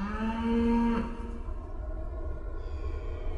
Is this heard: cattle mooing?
yes